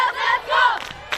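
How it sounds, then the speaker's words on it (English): Spectators at the LC vs MC rowing regatta cheer and shout in short, excited bursts, a loud surge of crowd voices that rises, dips and flares again. "we see the crowd is cheering and very excited to gain that 4 points"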